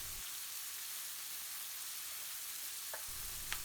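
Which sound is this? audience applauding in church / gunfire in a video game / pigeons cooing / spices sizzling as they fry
spices sizzling as they fry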